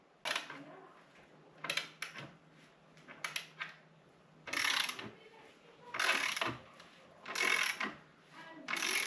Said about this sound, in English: now we're gonna tighten the nuts around those bolts to make sure that the wood is nice and pressed up against the wall